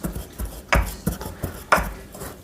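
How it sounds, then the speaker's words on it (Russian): Chopped young pine needles being crushed and pounded in a container, giving a series of sharp, close thuds with gritty crunching at an uneven rhythm, heard alone with no talk. "Нарезанную хвою нужно вот так немножечко растолочь."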